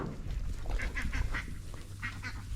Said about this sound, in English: That duck must have come